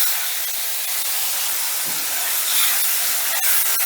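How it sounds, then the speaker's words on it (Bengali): A ground paste of ginger, green chili and tomato hits hot oil with tempering spices for a vegetarian curry, a loud, dense, continuous sizzling hiss close up with a few faint clicks. "ফোড়নটা একটু নাড়াচাড়া করে ভেজে নিয়েই দিয়ে দেব বাটা মশলা"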